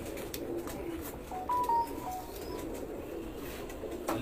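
Pigeons from the UAE coo softly in a few low, throaty calls over a steady outdoor background, with a couple of faint chirps nearby.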